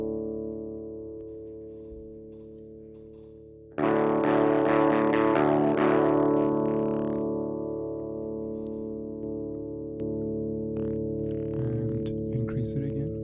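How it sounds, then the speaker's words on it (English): Distorted electric guitar chord through a distortion effect with the gain turned down to about 10–15, sustaining steadily before a louder restruck chord that rings and slowly decays, with faint talk underneath. "Okay, so this was the distortion effect."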